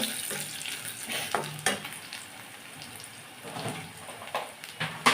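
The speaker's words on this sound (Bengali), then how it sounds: "আমার মরিচ পেস পুড়ে যাচ্ছে" Chili paste frying hot in a pan at home, a steady close sizzle with stirring scrapes and occasional sharper clacks throughout.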